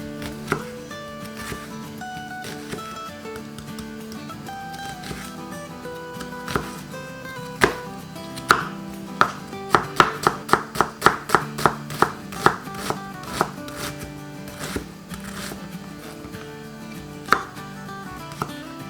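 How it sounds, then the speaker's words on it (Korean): Rapid knife chopping of onion on a board, a quick run of sharp taps speeding up mid-way, heard over background music with no talking. "양파 다져주세요"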